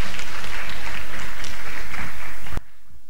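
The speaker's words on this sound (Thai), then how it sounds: "ขอเสียงปรบมือให้ดร." Loud, close applause from a seminar audience welcoming a speaker fills about two and a half seconds, then cuts off abruptly to near silence.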